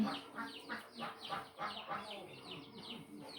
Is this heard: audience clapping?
no